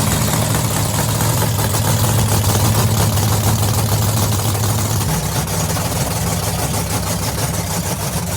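Swampthing, an old car fired up on petrol poured in the top, idling loudly and steadily close by with a rough, droning rumble that shifts slightly in pitch partway through.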